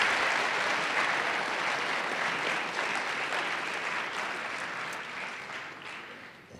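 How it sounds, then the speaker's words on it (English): An audience at a school event gives a round of applause: sustained, crowded clapping that starts full and gradually tapers over nearly seven seconds. "let's give Thomas and Wood another round of applause for their stories"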